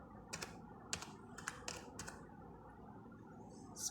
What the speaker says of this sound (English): Press the enter key to come to the next line.